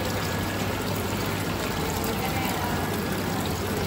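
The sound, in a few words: water flowing in homemade decorative waterfall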